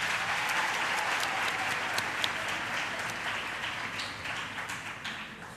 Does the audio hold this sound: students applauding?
yes